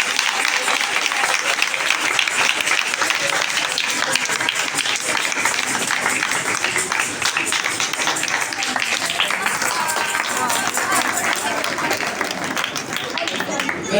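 A church congregation at a Baptist prayer and healing meeting bursts into loud, sustained applause, dense clapping filling the room steadily from start to finish.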